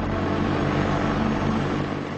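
An Apache combat helicopter in flight gives a loud, steady, close roar of rotor and engine that holds without a break, with no voices.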